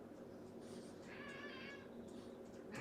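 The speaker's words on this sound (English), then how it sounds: "I'm sure you can hear the cat in the background" A cat meows once, faint and drawn-out, over a steady low background hum, with no other sounds standing out.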